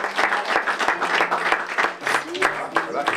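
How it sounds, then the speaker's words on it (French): At an awards ceremony, an audience claps in a fairly loud, steady round of applause while a voice talks over it. "On peut encore vous applaudir."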